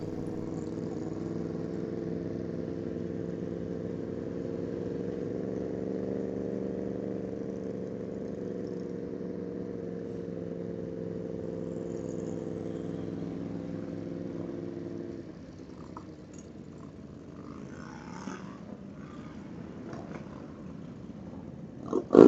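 A bagger motorcycle on the track ahead at COTA during a Battle of the Baggers race holds a loud, steady engine drone with harmonic layers for about fifteen seconds, then drops away to quieter background rumble.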